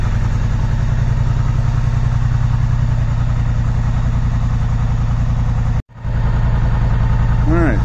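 Polaris Sportsman 850 ATV engine idling to warm up in snowy cold before plowing, a steady loud close rumble throughout with one brief cutout near the end.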